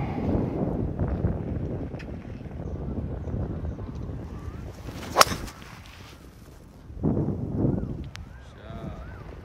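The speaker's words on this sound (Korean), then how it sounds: "앞바람이 세긴 한데" Strong headwind buffets the microphone on a golf course, a steady roaring rush that eases midway before gusting up again near the end, with a sharp clack and voices heard faintly.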